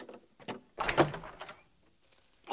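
A door opens in a Red Dead Redemption cutscene: one close, fairly loud wooden thunk with a short creaking rattle, then quiet room tone and no speech.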